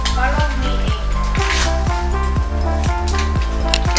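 Broccoli sizzles loudly in a pan with butter, a steady close frying hiss broken by regular scraping stirs, with background music playing underneath.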